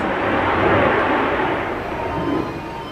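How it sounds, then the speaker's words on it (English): Navy jet flying overhead near a Virginia Beach shoreline, a loud broad roar that swells and then slowly fades over a few seconds, with no talk. "Navy jet."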